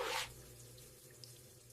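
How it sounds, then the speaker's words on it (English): Running water from a faucet while a sink is washed, a brief loud gush at the start that cuts off, leaving a quiet room tone with a faint drip. "I wash the sink."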